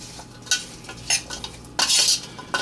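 Salted green beans being mixed with Korean red pepper flakes in a bowl for green bean kimchi make close, bursty scraping and rustling, with irregular stirring strokes and no talk.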